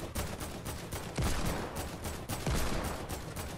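Gunfire in the Fortnite video game, a dense volley of rapid repeated shots with several heavier bursts, loud and close, continuing steadily with no talk over it.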